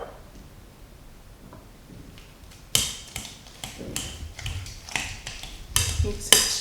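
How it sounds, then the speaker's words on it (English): Butter mixed into mashed plantain with a spatula: quiet at first, then close scraping and clattering strokes against the bowl, irregular and growing busier toward the end. "Just going to use a spatula to get this properly mixed up."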